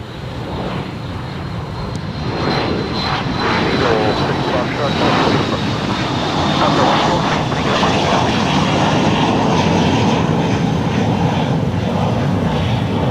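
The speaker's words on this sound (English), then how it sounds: "Off goes Dassault Falcon 7X. It's a German registered one." A German-registered Dassault Falcon 7X business jet departs from Los Angeles International Airport, its roar building and then holding loud and steady, with a faint high whine on top.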